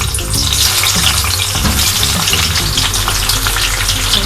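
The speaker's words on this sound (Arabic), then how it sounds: "دلوقتي هنقلي شويه بتنجان وفلفل" Eggplant and peppers fry in hot oil, a loud, close, continuous crackling sizzle that holds steady throughout with no talking.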